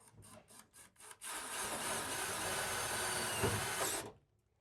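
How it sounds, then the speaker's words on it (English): A power driver sends a self-tapping screw into the metal body of a Sprinter van, a few short bursts followed by a steady grinding whir for about three seconds that stops abruptly, close and with no talking. "So we'll get a self-tapper right there."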